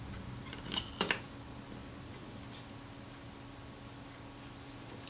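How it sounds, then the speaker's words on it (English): A Kodak Retina IIa camera, its film advance prone to jamming, gives a short burst of close mechanical clicks from the shutter and advance over a steady hum of room noise. "So the shutter works, film advance is inclined to jam."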